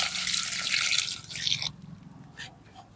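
Water splashes steadily onto a plant for about a second and a half, then gives way to a few scattered drips and trickles against a quiet background.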